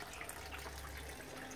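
Water runs steadily into a 20-foot PVC pipe in a backyard aquaponics system in Nepal, a continuous low trickle and splash heard up close with no voices.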